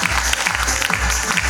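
Crowd at a motivational speech event clapping to welcome guests and party workers; loud, continuous applause fills the short stretch with no break.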